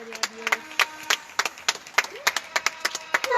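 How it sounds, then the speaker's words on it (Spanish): Scattered applause for doctors in Spain, with irregular handclaps from a nearby crowd, some sharp and close, mixed with faint voices. "vemos los aplausos que le dan a los médicos de aquí de España"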